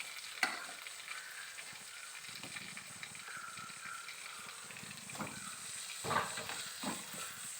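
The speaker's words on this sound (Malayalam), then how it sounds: "ഇതേ ഓയിൽ തന്നെ നമുക്ക് ഉള്ളിയും തക്കാളിയും വാട്ടിയെടുക്കാം" Onion and tomato sautéing in oil in a pan for prawn biryani, a quiet continuous sizzle with occasional spoon stirs and scrapes, heard close with no talking.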